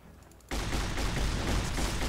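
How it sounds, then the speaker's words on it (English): Gunfire erupts in Fallout: New Vegas, a sudden loud burst after a quiet moment that becomes sustained, dense, rapid shooting with no pauses. "Who's shooting you?"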